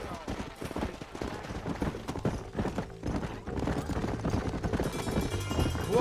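Horse galloping at speed in Red Dead Redemption, a rapid continuous drumming of hoofbeats with scattered gunshots, busy and loud throughout.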